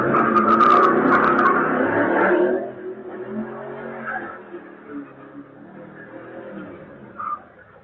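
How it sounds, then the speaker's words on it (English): Model T-style T-bucket hot rod with a big engine doing a burnout, a loud roaring rev that drops off after a few seconds into a lower idling rumble, fairly close with no talk. "He tries to burn out here."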